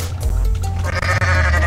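A goat bleats loudly in the video game Goat Simulator, a drawn-out nasal cry over a dense, rumbling game soundscape.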